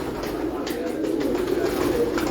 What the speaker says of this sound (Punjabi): ਇਹ ਇੱਕ ਐਸਾ ਕਬੂਤਰ ਹੈ ਸਬਜ਼ਾ ਇਹਦਾ ਨਾਮ।